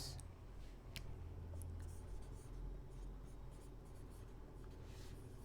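Chalk or marker scratching steadily across a classroom board, a continuous close scraping texture with a few sharper taps, heard alone without talk.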